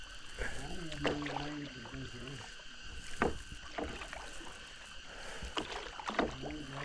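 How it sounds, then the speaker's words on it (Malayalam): Raft paddles splash and dip in river water in Periyar Tiger Reserve at an irregular rhythm, with voices talking and calling nearby throughout. "ഏകദേശം ഒരു മണിക്കൂറോളം നമ്മൾ റാഫ്റ്റിംഗ് ഒക്കെ ചെയ്ത് നമ്മൾ നമ്മുടെ ലക്ഷ്യസ്ഥാനത്തെത്തി"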